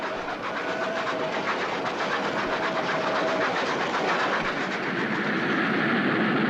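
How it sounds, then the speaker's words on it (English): A train rumbles steadily past on the rails with a rhythmic clatter and a faint tonal whine, loud and continuous throughout. "The rush and roar of a passing train filled spectators with awe and wonder."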